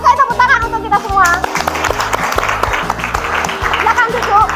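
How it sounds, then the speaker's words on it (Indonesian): A classroom of students in a sociology lesson clapping together, a brief burst of applause mixed with children's voices and chatter. "Oke, tepuk tangan untuk kita semua."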